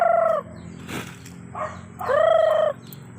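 Chickens call close by, a couple of drawn-out crowing cries with softer clucks between them, as they are being fed papaya.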